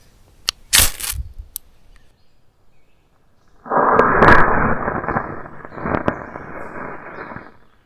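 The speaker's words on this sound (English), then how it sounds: "The spine throws sparks very well." The spine of a new 2026 Morakniv Amberg S bushcraft knife strikes to throw sparks, with a few sharp clicks followed by a loud, sustained rasping scrape and a second, weaker scraping pass.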